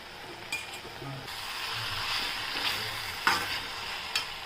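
Mixed vegetables stir-frying in a pan for idli manchurian: a steady close sizzle with scraping stir strokes and a few sharper clatters of the spatula, no talking.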